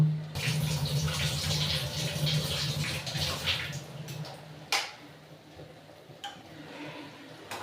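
Water poured into a wok for heating, to be added to a Bengali red mutton curry, gives a steady close-up splashing rush for about four seconds, then fades to a quiet pan with a few soft clinks.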